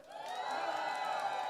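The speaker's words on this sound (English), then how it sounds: "Come on, graduates, cheer for ourselves." Graduates and their families cheering at a nursing graduation ceremony, a sustained blended roar of crowd voices and whoops, steady and moderately distant, with no distinct words.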